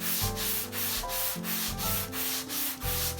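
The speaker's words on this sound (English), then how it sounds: "So what you gotta do now is block sand the whole car." Block sanding across primer on a car body in a crisscross pattern, rhythmic back-and-forth rasping strokes about three per second, close and steady.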